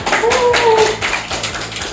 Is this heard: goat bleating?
no